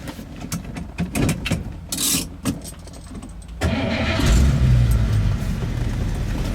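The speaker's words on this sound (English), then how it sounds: "I think I'll start the car" A 1953 Cadillac Eldorado convertible with a 12-volt system cranks over amid clicks and rustling, then its engine catches and settles into a steady, rumbling idle close by.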